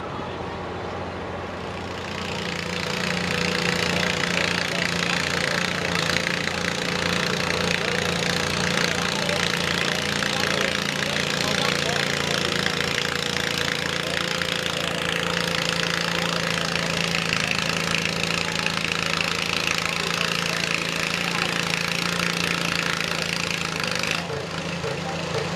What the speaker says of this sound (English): put a V8 gasoline powered engine in it. It will have no mufflers, so it'll be equally as loud as the mini modified